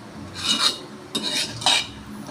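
Kilaikan fish curry stirred in a pot, heard as three short close scraping strokes of a spoon against the metal, each a brief rasping sweep with quiet pauses between.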